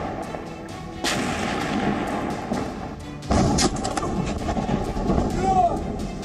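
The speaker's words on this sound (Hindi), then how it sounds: "दिन में बंदूक की गोलियां और तोपों के गोले यूक्रेन के शहरों को तबाह करते हैं" Heavy artillery booms and bursts of gunfire in a war-torn Ukrainian city, loud continuous rumbling blasts with sharp cracks, two big surges of explosions, near and dense.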